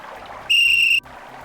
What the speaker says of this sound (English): It's a magic whistle.